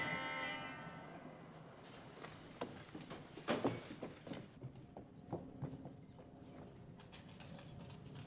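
A moving passenger train rumbles steadily from inside a carriage, with irregular clanks and rattles of the railcars over the track, fairly faint and with no voices.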